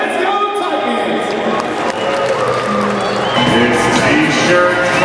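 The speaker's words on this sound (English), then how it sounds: "Give him a big round of applause and let's go Titans!" Hockey arena crowd roars with loud, continuous applause and cheering for the Titans, with scattered whoops and shouts rising from the fans throughout.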